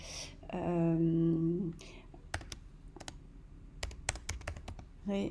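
Keys on a computer keyboard are tapped in short clusters of crisp clicks, close and fairly quiet, following a brief spoken phrase.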